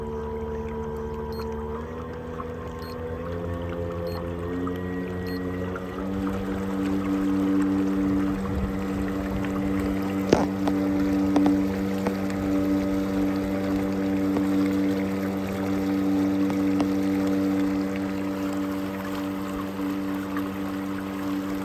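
A Bixpy J2 electric motor on a Hobie Lynx kayak runs at full power outdoors, giving a steady, quiet whine with a few tones that rise as it spins up, under water wash and a faint background hiss.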